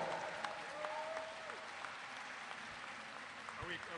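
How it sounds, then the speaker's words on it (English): Audience at a Comic Con panel for the Eureka series gives sustained applause, fairly quiet and distant-sounding, with faint voices and a few whoops mixed in. "Ladies and gentlemen, give a massive round of applause to our star of the phenomenal series Eureka"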